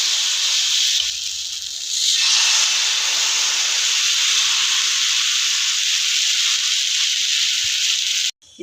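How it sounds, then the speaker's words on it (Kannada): Rava dosa batter poured onto a hot oiled tawa gives a loud, steady sizzle and hiss that swells after a brief quieter start and holds evenly before cutting off abruptly at the end. "ಇವಾಗ ದೋಸೆ ಹಾಕ್ತಾ ಇದ್ದೀನಿ."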